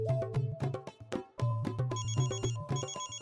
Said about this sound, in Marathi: तुझ्या फोनचं नरडावळ की